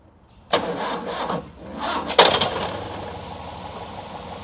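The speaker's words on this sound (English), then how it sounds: "Go ahead and start it up." A 1959 Nash Metropolitan's engine cranks and catches, with a burst of starter and ignition noise, then a second louder surge before settling into a steady, fairly close idle.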